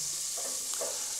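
Onions frying gently in a pan while making egg biryani, a soft continuous sizzle with faint stirring scrapes, fairly quiet and steady throughout.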